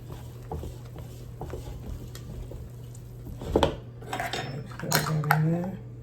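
Zeppole batter stirred in a bowl, with a utensil clinking and scraping against the dish in scattered taps and a few louder knocks, close by over a steady low hum.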